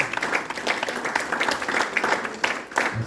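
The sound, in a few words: congregation applause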